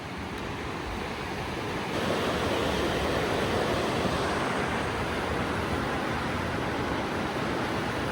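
The Elwha River flows in a steady, broad rush, loud and continuous, swelling slightly after the first couple of seconds with no voices.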